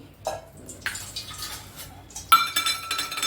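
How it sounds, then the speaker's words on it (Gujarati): Spoon clinking against a metal pan in a home kitchen while oil is poured in for tempering dal dhokli; a few sharp, light metallic taps and clinks, close and alone. "એમાં પાંચ ચમચી આવી રીતે તેલ નાખી દો"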